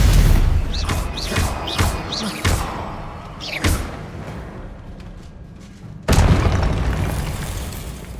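Stupefy spell impacts in the game Hogwarts Legacy: a rapid series of sharp bursts with swishing, rising zaps, then a pause and one louder blast near the end, all over a steady game background.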